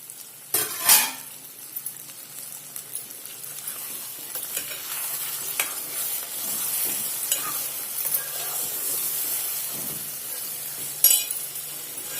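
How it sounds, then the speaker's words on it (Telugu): Chicken frying in oil for nawab chicken curry, with a steady close sizzle throughout and occasional sharp clinks of a utensil stirring against the pan. "ఇది కొంచెం నూనెలో వేగాలి"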